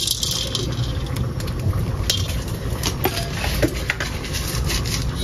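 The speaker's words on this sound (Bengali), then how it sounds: "সব মশলা একটু শুকনো খোলায় ভেজে নিচ্ছি।" Whole spices, dried chilli, cumin and black pepper are dry-roasted in a pan, giving a steady close scraping and stirring rattle with faint crackle.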